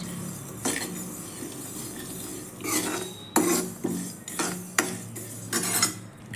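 Raw sesame seeds roast in a dry pan for a dry fruit ladoo, with bursts of crackling and a spoon scraping and clinking against the metal in uneven strokes.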